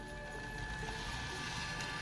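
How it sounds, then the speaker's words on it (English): A small portable Bluetooth printer runs in a steady, close mechanical whir with faint ratcheting clicks as it feeds and prints, continuous throughout with no talking. "Like, this is a printer in my tiny hand."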